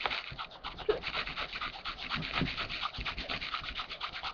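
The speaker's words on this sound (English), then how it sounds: "you rub off the rubber cement" Dried rubber cement being rubbed off watercolor paper by hand, a steady close scratchy friction sound that runs continuously with small bursts throughout, no talking.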